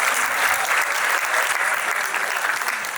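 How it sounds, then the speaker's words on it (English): Applause from an audience at a personality contest, dense steady clapping filling the whole stretch at even loudness, with no voices standing out. "Big round of applause"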